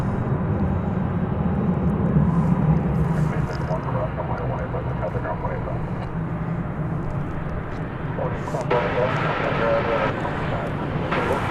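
Airliner taking off at Dallas Fort Worth Airport, a low, rumbling engine roar at moderate distance that swells slightly then holds steady, with a brief brighter surge near the end.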